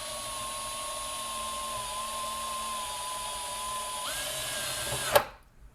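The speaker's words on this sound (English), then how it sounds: "continue on with the drill." Power drill boring a hole in a metal part for a monoblock quad amplifier build, a steady high whine that shifts pitch partway through and then cuts off abruptly as the motor stops.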